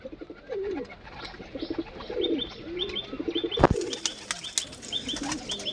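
Kaldam pigeons in a flock coo with low, rolling calls, overlapping and repeating close by, mixed with higher chirps and a brief rustle or flutter of wings partway through.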